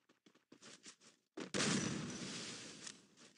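Gunfire in the mobile shooter Free Fire, a few short scattered shots followed by a sustained loud burst of rapid automatic fire that stays close and dense to the end.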